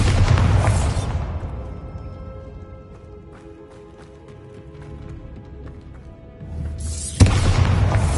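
Two loud blasts from the Bombarda spell in Hogwarts Legacy, each a heavy explosive boom, the first fading into a long ringing quiet before the second bursts abruptly near the end.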